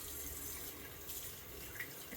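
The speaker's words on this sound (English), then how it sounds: "Excuse the water. Get both my hands wet." A bathroom tap runs steadily into a sink while hands are wetted under the stream, a soft continuous splashing hiss at low volume with slight shifts as the flow is disturbed.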